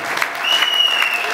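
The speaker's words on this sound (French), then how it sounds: "Applaudissons une fois de plus." Audience applause at a surprise anniversary celebration, a short burst of steady clapping from a crowd, fairly loud and close.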